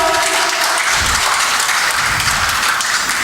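Loud, dense applause from a conference audience at a workplace conclave award felicitation fills the whole stretch, steady and close, with no voices over it.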